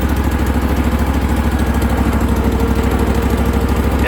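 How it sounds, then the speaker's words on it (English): A John Deere 318 tractor with a swapped-in Briggs & Stratton Vanguard engine idles at low speed, a loud, close, steady throbbing rumble with an even pulsing rhythm and no voices. "So right now the engine is all the way down at idle speed"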